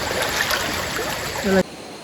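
River water flows steadily in a close, loud and continuous rush of broadband noise, with a brief louder surge just before it cuts to quieter background.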